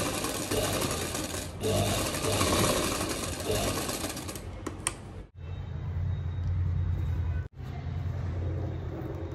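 A sewing machine stitches a blouse seam with a half-inch margin on a Paithani border blouse, running loud and continuous for about five seconds, then in two shorter bursts broken by brief stops.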